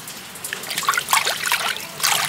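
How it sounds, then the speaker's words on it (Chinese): Running tap water splashing over a fresh piece of beef leg meat being washed, an uneven trickling and splashing stream close by with no speech. "我要把它洗一下，再切起来。"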